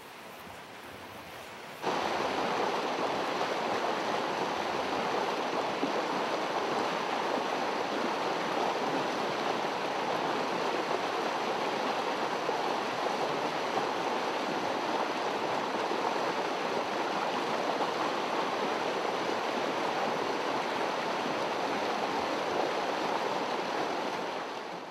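Flowing water of Divide Creek, a steady broadband rush and babble heard up close, continuous and fairly loud after a brief quieter opening.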